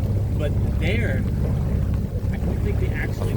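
Boat motor on the Kinabatangan river in Borneo, Malaysia, a steady low engine drone with wind and water noise throughout, under brief faint voices.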